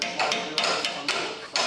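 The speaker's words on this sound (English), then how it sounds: "Give it a little tap with a hammer." A hammer taps a strut bolt on a car's suspension, four sharp metallic knocks spaced about half a second apart, close and clear against a quiet workshop background.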